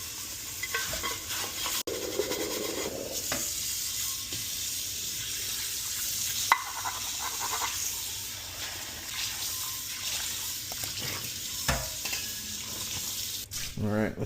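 Scrubbing and rinsing an 8.5-inch Our Place titanium frying pan at a kitchen sink after cooking, with steady running tap water, clattering and brushing strokes throughout, close and fairly loud, no talking.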